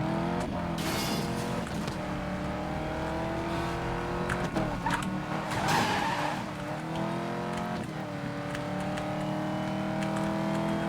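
A Pagani Huayra in Need for Speed: Most Wanted (2012) races along with a steady, loud engine drone, rising and shifting gear tones and brief tire squeals, with no talking.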